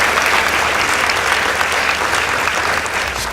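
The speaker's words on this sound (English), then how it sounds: "Please give them a round of applause." A school debate audience claps for a competing girls' team, a short loud burst of dense, even applause that carries through the whole moment before easing slightly at the end.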